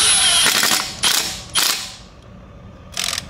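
On a BMW E39 540i clutch job, an impact wrench drives bolts back in with loud, close rattling bursts. There are four separate bursts, each trailing off briefly.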